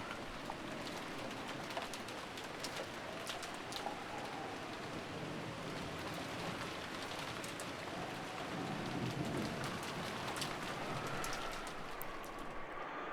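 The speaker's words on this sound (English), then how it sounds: "disappeared beneath the sound of the rain" Steady rainfall in a video game patters continuously, a dense hiss of drops on surfaces with no voices, holding an even level throughout.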